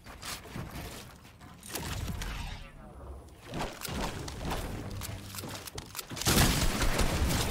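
Twin shotguns blast repeatedly in a fast-paced shooter game, sharp cracking bursts landing at irregular intervals through clattering game action, with a louder burst near the end.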